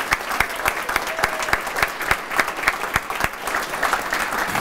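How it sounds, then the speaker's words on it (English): A smaller audience claps for event sponsors, with distinct individual hand claps standing out against a steadier background of applause. "Can you please give a round of applause for these sponsors?"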